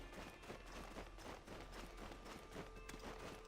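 A horse's hooves clip-clop in the video game Black Desert, a faint, steady, even rhythm of soft hoof falls that runs on alone without a break.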